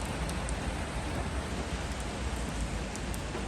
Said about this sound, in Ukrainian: Холодний дощ, холодно взагалі на вулиці.